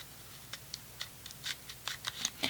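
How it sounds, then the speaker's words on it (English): Scissors cutting through craft packaging, a series of short crisp snips in an uneven rhythm, close and fairly quiet with no talking. "I'm going to cut through."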